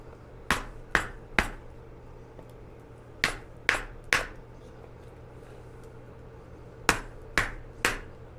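A hammer strikes hot steel while forging a railroad spike, ringing metallic blows in three bursts of three sharp, evenly spaced hits with quiet gaps between, loud and close, with a faint background hum.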